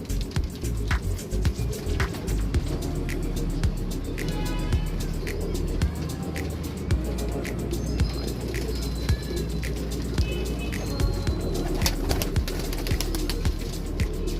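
Golden pigeons kept by a fancier coo repeatedly among birdsong and chirps, with a steady low hum and occasional passing traffic in the background.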